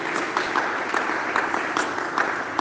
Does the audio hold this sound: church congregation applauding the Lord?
yes